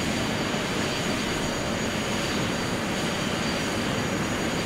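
Steady airplane engine drone from Microsoft Flight Simulator X on final approach, a dense continuous broadband roar holding level throughout with no talk over it.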